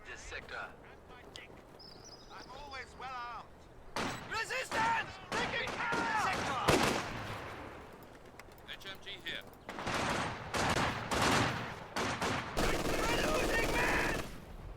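Machine-gun bursts from an MG42 in the real-time strategy game Company of Heroes, rattling in short runs among other gunfire and effects while a commentator talks over the action.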